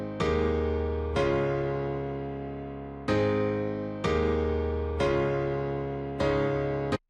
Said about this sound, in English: Then on top of that there's this really big piano.